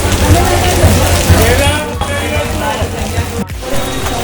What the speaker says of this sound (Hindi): हम बाहर बारिश के मजा लूट रहे हैं